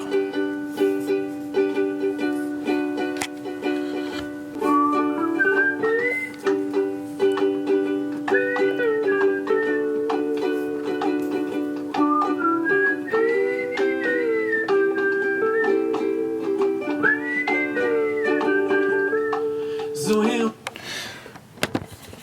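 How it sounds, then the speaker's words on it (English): A person whistles a wandering melody over a sustained instrumental drone, steady and close, ending with a sudden burst of noise. "Recording whistle is like one of the hardest things you can do"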